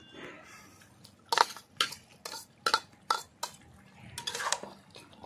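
Prawns going into a pan of cooked Malabar spinach and getting stirred, a series of loud scraping, clattering spatula strokes against the metal pan with a faint sizzle underneath.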